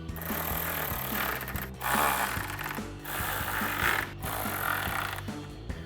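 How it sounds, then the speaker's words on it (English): A ratchet fitted with an 8mm socket tightens headlight mounting bolts on a 2013-2014 Mustang, giving repeated bursts of close, rapid clicking separated by short pauses, with no voices. "We're gonna take your 8mm socket and tighten these down."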